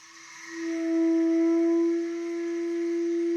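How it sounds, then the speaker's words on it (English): Orchestral sample air horns hold a sustained tone that bends slowly in pitch, giving an eerie, whale-like call that swells in and settles into a steady hum with no talking. "here I'm actually making use with these air horns of the pitch bend to do a bit of this weird kind of"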